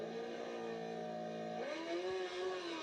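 Racing motorcycle engine at the Isle of Man TT start, a factory Honda among them, holding a steady loud drone and then revving up sharply in pitch, close and continuous with no talking.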